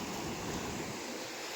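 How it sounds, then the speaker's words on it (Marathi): Sea waves wash onto the rocky shore at Harihareshwar beach, a faint, steady surf wash mixed with soft wind noise, heard alone without talk. "हा बघा हा निसर्गाचा पूर्ण समुद्र आहे हरिहरेश्वरचा"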